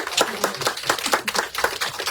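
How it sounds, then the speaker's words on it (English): Audience at an anti-corruption commission event clapping for a woman official, a steady rapid patter of many hands at moderate volume with a faint voice underneath. "Clap for her"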